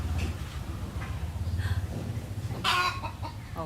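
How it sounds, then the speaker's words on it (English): Close clucking from a chicken in rural Tarlac province, Philippines, runs in an uneven rhythm, then breaks into a louder, harsher call near the end, with no voices. "Why is the chicken doing that?"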